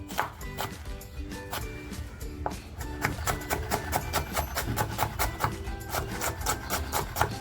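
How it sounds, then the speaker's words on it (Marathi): Garlic is pounded in a mortar and pestle with a steady run of quick, rhythmic thumping and grinding strokes that keeps going the whole time, close and fairly clear. "लसूण बघा जी लसूण घेतली होती ती अशी छान खलबत्त्यामध्ये टेचून घेते आहे"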